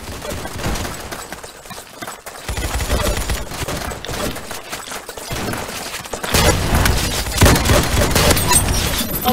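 Grenade explosions in the Roblox game Ace of Spadez, a run of loud muffled booms and crackling blasts with dense gunfire-like bursts, growing heavier and more continuous toward the end, close and harsh.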